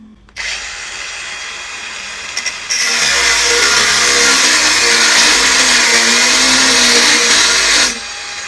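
A cordless angle grinder spins up and then cuts through a 16 mm solid steel bar, giving a loud, steady high-pitched grinding whine that holds for about five seconds before the motor winds down.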